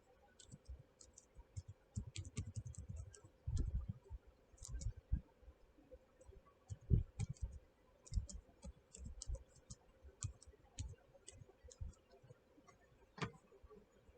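Typing text into a Microsoft Teams chat on a keyboard, with soft irregular keystroke clicks in short bursts and pauses, faint and close over low background noise.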